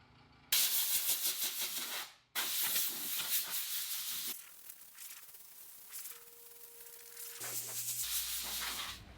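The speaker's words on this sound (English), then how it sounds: "So we can blow it off and then put on the second coat." Compressed air blasts sanding dust off a wood surface coated in hard wax finish, a loud close hiss in several bursts with brief pauses and quieter gaps between them.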